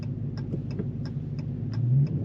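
A 2015 Dodge Challenger SRT Hellcat with a 6-speed manual gives a low, steady engine drone while driving. A regular ticking, like a turn signal, clicks over it.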